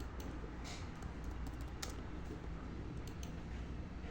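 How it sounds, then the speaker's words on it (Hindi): Quiet typing on a computer keyboard: scattered light key clicks over a steady background hiss, with no speech. "सॉरी फिर से हम यहाँ पे टाइप करते हैं कि"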